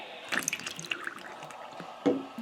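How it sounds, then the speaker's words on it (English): Water poured into the funnel of a Mudjug Classic spittoon: quiet trickling and dripping with a few splashy bursts, close and faint, a brief louder gurgle near the end. "if you pour water into the classic mud jug,"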